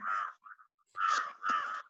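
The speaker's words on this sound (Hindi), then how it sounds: "कहाँ से कौवा इतना बोल रहा है रे भाई रात में?" A crow caws at night in three harsh bursts, the first alone and the last two close together, heard clearly with brief quiet gaps and small calls between.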